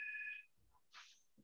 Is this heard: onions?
no